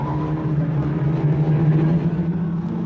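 Formula Ford single-seaters from a 1998 race, a steady loud engine drone with a strong low tone running continuously, as if cars pass close by at speed with no pauses or voices.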